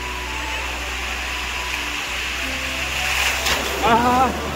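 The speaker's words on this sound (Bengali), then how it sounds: "অনেকটাই ঢেউ আছে, বড় বড়, খুবই বড় বড় ঢেউ, খুব বড় বড় ঢেউ" Big sea waves at Puri beach during Holi make a steady, close surf roar mixed with wind buffeting on the microphone, with a brief voice near the end.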